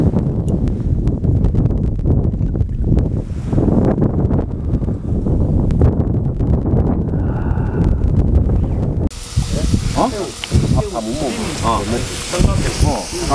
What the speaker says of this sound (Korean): 바람 진짜 대단하다